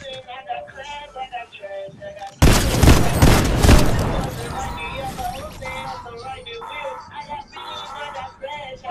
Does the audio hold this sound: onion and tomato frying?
no